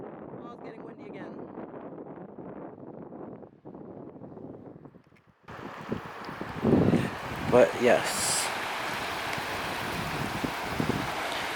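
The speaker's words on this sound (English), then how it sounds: "Oh, it's getting windy again." Wind blows by a river near an outdoor hot spring, first as a soft background hiss, then as loud, gusty buffeting across the microphone. A person speaks briefly over it.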